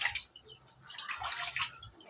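Water splashes and trickles over a pet chicken during a bath, with bursts of pouring and dripping in quick, close, irregular waves and no talk.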